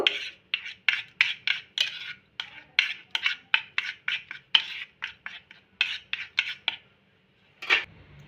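Black salt, chaat masala, chilli powder and amchur powder mixed together in a small bowl with a spoon, giving a series of short, close scraping strokes in a steady rhythm with a brief pause near the end.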